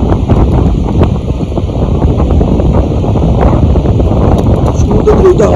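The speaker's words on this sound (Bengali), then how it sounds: "সাউন্ড নয়েজ দেখে বুঝতে পারছি কি পরিমাণে হাওয়া দিচ্ছে" Strong wind buffets the microphone at a seashore at night, a loud continuous rumbling roar that buries the ocean waves behind it.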